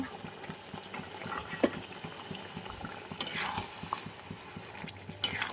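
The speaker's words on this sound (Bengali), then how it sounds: "হলুদ গুঁড়ো সব একবারে দিয়ে আমি সুন্দরভাবে কষিয়ে নিচ্ছি" Katla fish head and fish pieces are sautéed with turmeric powder in a pan nearby. A soft, steady sizzle runs under repeated scraping and stirring strokes, with a few sharper clinks of the utensil.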